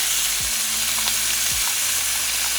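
Flanken-cut beef ribs caramelize in a soy-balsamic sauce with a steady, close sizzle of frying, an even crackling hiss running throughout.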